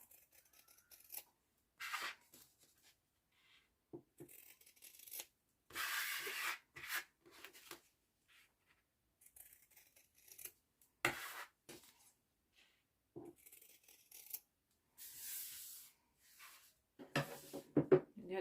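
Scissors trim the corners off fabric pieces for a sewn wallet. Short, close snipping and rubbing bursts come at irregular intervals, with quiet pauses between them.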